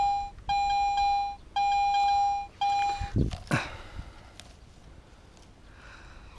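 Three sustained electronic beeps from a metal detector signalling a target about fifteen centimetres down, each lasting about a second, followed by rustling and handling noises.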